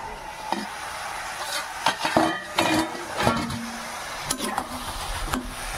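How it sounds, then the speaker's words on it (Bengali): A pot lid comes off a pan of traditional Bengali spinach (palong shaak) cooking on the stove, giving several metallic clanks and scrapes over a steady, close sizzle. "এবার এটা ঢাকনাটা খুলে দিতেছি"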